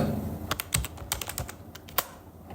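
Typing on a computer keyboard to enter a search in a web browser, with a quick run of crisp, close key clicks in an uneven rhythm, loud and alone with no talk.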